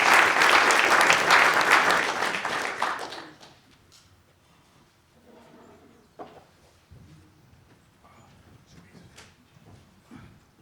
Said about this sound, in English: give me a round of applause again for that